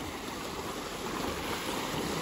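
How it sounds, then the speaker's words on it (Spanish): Small waves lapping on Lake Atitlán, Guatemala: a steady, broad wash of water noise, moderately loud and continuous, with no talking. "Qué chilero, hay olas."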